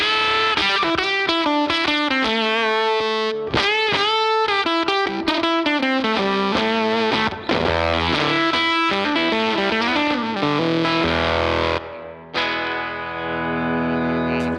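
Electric guitar through a Hamilton Effects Companion pedal with its treble switch flipped, a loud driven melodic line of sustained notes that shifts to a brighter, held tone near the end.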